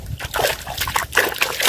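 Live shrimp flick and splash inside a lú fish trap being checked, with quick wet slaps, trickles and sloshing bursts close by in an irregular, lively patter.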